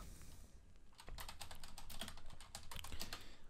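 Steady, fast typing on a computer keyboard while entering Debian console commands, quiet and close, with rapid key clicks running throughout.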